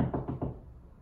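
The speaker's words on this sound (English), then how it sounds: "there was another knock at the door." A knock at a door in a puppet show, heard as three quick close knocks in a row followed by a short fading decay, with no talking.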